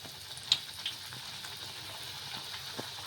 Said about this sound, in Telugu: ఇలా నూనె బాగా వేడెక్కిన తర్వాత పూరీని అయితే వేసేసుకోవాలి.